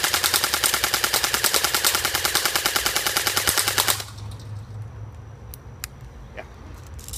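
Black-ops Tactical M4 Viper airsoft gun firing fully automatic: a rapid, even burst of loud mechanical shots for about four seconds, then stopping, followed by quiet outdoor background with a few faint clicks.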